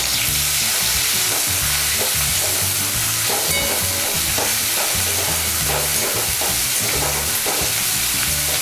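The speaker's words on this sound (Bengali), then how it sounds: "আমি প্রথমে পেঁয়াজ বাটাটা দিয়ে একটু নেড়ে নেব" Onion paste frying in a hot pan for a Bengali hilsa biryani, with a loud, constant sizzle and repeated scraping strokes of a spoon as it is stirred close up.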